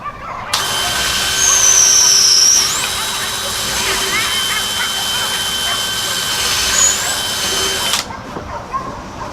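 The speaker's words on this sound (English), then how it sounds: "I'm going to go ahead and pre-drill a couple holes for this" A power drill runs continuously for several seconds at close range, whining steadily as it pre-drills holes into wood of a house eave before cutting off abruptly.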